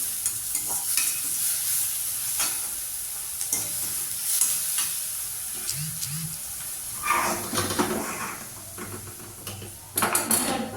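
Onions sautéing in a pan for ragi keerai adai give a steady close sizzle, with spatula stirring scrapes and clinks against the pan growing busier toward the end, and no talking.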